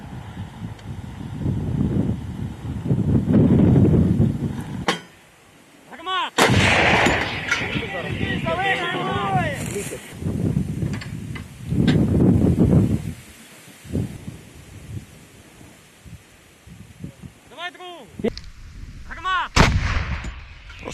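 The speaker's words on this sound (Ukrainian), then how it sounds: "Гармата!" Several heavy blasts from a captured Msta-B howitzer boom out one after another, each followed by rolling echoes, with wind and rustling noise filling the gaps between shots.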